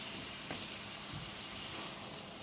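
Minced meat for içli köfte filling fries in a pan, a soft continuous sizzle and crackle heard close but fairly faint, with a light scrape or two and no voices.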